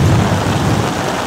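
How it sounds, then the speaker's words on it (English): Heavy rain pours down during a thunderstorm, a dense, loud, steady roar of rainfall with a low rumbling undertone throughout the brief stretch. "In a storm like this,"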